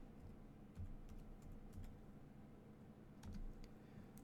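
Keystrokes on a computer keyboard while entering text in Photoshop, a few soft, scattered clicks in short bursts over a low steady background hum, fairly quiet and with no talking.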